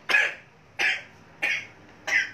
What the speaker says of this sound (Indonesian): Langsung batuk-batuk saya kan.